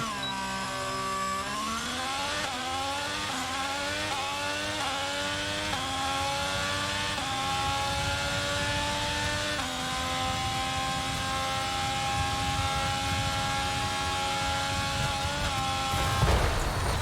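A 2023 Alfa Romeo C43 Formula 1 car in the F1 22 video game accelerates hard down a straight, its high-revving engine climbing through gear shifts, loud and continuous without talk.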